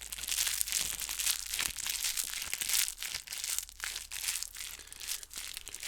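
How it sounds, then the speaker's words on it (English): Soft crinkling and crumpling, like plastic or paper handled close up, comes in quick irregular bursts of crackle that stay continuous and quiet throughout, with no speech. "Let's listen to some more Crinkles."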